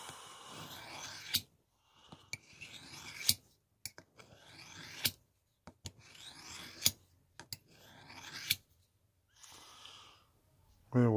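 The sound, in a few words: sharpened knife cutting tough meat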